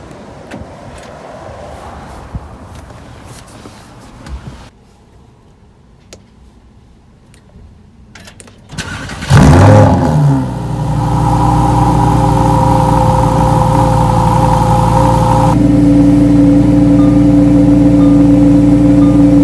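A 2020 Lamborghini Huracan EVO is started with a few clicks first, then a loud, sharp engine roar that settles into a steady, deep idle close by.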